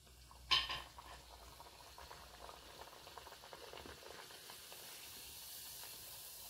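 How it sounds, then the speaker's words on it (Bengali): Flour pitha fry in hot oil, giving a faint, soft bubbling sizzle after a brief clatter near the start. "উল্টে পাল্টে লাল করে ভেজে নিব পিঠাগুলো।"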